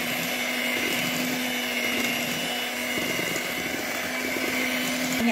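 Electric hand mixer whirring steadily as it beats cake batter for steamed mini cakes, with a constant motor hum and no pauses throughout.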